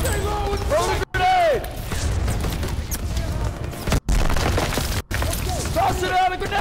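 Gunfire and a grenade blast in the World War II shooter Call of Duty WW2, a dense, loud battle mix with repeated bursts and booms, with soldiers shouting over it throughout.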